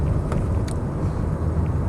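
White 1.8 VW Golf GTi Cabriolet Mk1 pulling away, a steady low engine rumble with road noise heard from inside the car, continuous and moderately loud.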